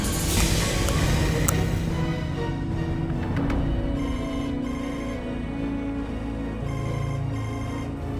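A telephone rings with repeated electronic ringtone bursts, loud and close, against a busy background of music and ambient sound in an Indonesian drama scene.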